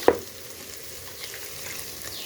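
Goat meat sizzles steadily in a pan as it is sautéed until reddish-brown, a sharp clatter at the start giving way to a continuous, fairly close frying hiss with no talk.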